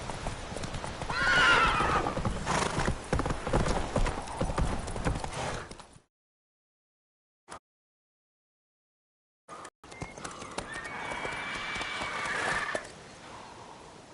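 Horse hooves pound and a horse whinnies in The Witcher 3: Wild Hunt, loud and busy, then cut by a long silence before the galloping returns with another neigh.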